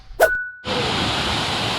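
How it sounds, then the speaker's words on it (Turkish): A short metallic ding is followed by the steady, loud, broadband roar of rushing water at the Çiçeli waterfall near Perşembe plateau in Ordu, continuing unbroken to the end. "Burası da Mendereslerin ilerisinde bulunan Çiçeli Şelalesi."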